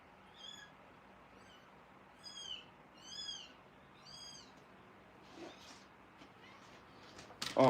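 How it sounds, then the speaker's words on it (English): A cat meows several times in drawn-out, rising-and-falling calls, fairly close, followed by a short clatter at the end. "I'll go get my favorite little kitty."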